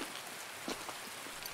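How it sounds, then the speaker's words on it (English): Heavy rain falls in the shooter game Escape from Tarkov, a soft, continuous hiss of drops on surfaces with a few faint patters, quiet and unaccompanied by speech. "This rain's intense."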